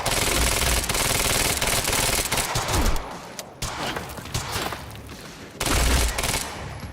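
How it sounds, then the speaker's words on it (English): Enemy soldiers shooting in the video game Quantum Break, with dense bursts of loud automatic gunfire that ease off midway and then return, with no talking over it. "Firing at us"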